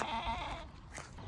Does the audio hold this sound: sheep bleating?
yes